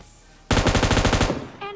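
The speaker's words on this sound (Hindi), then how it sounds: "मैं यहाँ पे फायर देता हूँ" A rapid burst of automatic gunfire in PUBG Mobile Lite, about a dozen loud, evenly spaced shots close up, followed by a brief tonal game sound.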